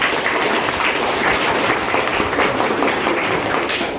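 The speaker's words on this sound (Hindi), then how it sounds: "तो उनके लिए भी एक बार ताली बजाइए।" Children in a school children's parliament session applaud the newly elected deputy prime minister, a dense, steady burst of many small hands clapping together, loud and sustained throughout with no talk over it.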